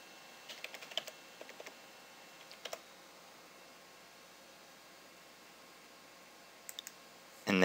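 Sparse keyboard typing while admin username and password details are entered on a computer, with a few soft clicks early on, a brief pair later, then a louder thump at the end against a quiet background.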